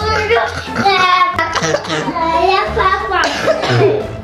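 A person coughs several times in a short burst, close and loud, mixed in with a voice and household chatter in a home during the Christmas season.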